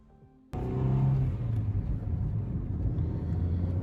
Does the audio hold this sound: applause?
no